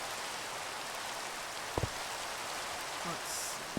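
Steady hiss of falling rain in the Minecraft video game, a dense even wash filling the whole stretch, with a couple of brief soft knocks and faint speech underneath.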